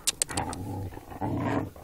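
Border collies playing, with a short run of yaps and barks up front followed by a growly, vocal stretch of dog noise, close and moderately loud.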